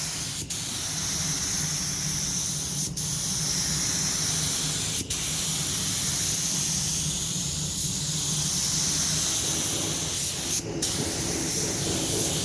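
A spray gun lays car filler primer onto a body panel in a steady, loud continuous hiss, broken by a few short gaps where the trigger is released, with no talking.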